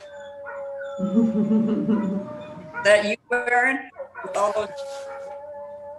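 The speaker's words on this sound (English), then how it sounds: "Now I have howling dogs." Dogs howl in a busy household, a sustained, wavering howl with yips that carries on throughout. A person talks over it, fairly close.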